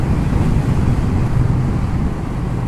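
Heavy, roaring wind rush buffets continuously, loud and close, with deep rumbling gusts and no pauses or other sounds, heard while riding a Honda Shadow ACE 750 motorcycle without a windshield.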